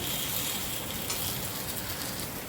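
Mixed appe fry in a little oil in an appe pan as they are flipped, giving a close, steady, dense sizzle with no talk.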